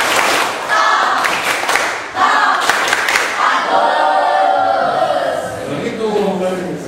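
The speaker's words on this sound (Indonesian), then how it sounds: "Berikan aplaus untuk" Classroom applause for a student, a burst of clapping from a group of pupils that rises, dips briefly and continues, mixed with children's voices and chatter.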